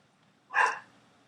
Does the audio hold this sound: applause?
no